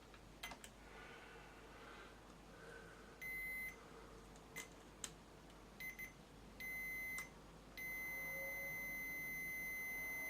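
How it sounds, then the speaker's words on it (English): A continuity tester's buzzer beeps on a BSR Civic tape recorder under repair, giving several short bleeps and then a longer steady tone, faint over a quiet bench background, no talking. "Put the continuity buzzer on."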